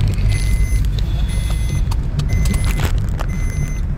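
A car idles and rumbles low and steady as travellers set off for a train, with faint high tonal beeps recurring and a few brief knocks and jingles close by.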